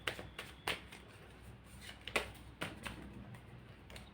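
Tarot cards being shuffled by hand, a series of soft riffling flicks and brushes at a quiet, close level with an uneven rhythm and no talking.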